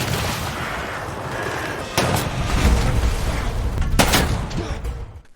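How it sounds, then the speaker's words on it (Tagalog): Gunshots ring out as a sound effect in a narrated war story, with a sharp report near two seconds and another near four seconds, each followed by a rumbling boom over a dense, noisy background. "may biglang nagpaputok ng baril."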